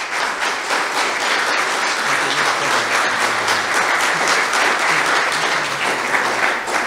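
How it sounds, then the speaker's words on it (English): Congregation at a Maple Grove church service applauds two young men, a steady, dense round of clapping filling the room throughout, with a faint low hum and murmur underneath. "Let's give them a round of applause."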